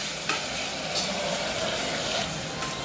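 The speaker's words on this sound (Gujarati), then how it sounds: "શાકનો વઘાર ને કર્યો" Vegetables being tempered in hot oil on an electric stove indoors, giving a steady, close frying sizzle with light crackle throughout and no talking.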